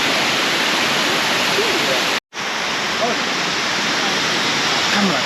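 A tall waterfall with clear water near Luang Prabang, Laos, pours in a loud, constant roar, broadband and close, briefly cut off for an instant midway before resuming unchanged.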